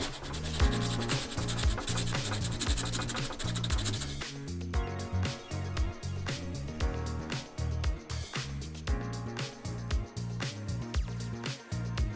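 Sanding a fiberglass rust-hole repair on a 1994 Lexus LS400 body panel, close rhythmic rasping strokes of abrasive over the patch, steady back-and-forth with brief pauses, no talk.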